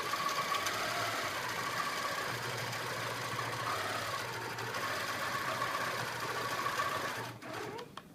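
A long arm quilting machine stitches binding onto a quilt with a steady, continuous mechanical hum and rapid needle chatter, close and even throughout before stopping abruptly near the end.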